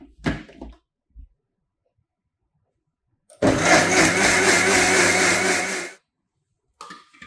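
After a couple of knocks, a mixer grinder beating cake batter of sugar, eggs and vanilla runs loudly for about two and a half seconds with a steady whirring roar, then cuts off.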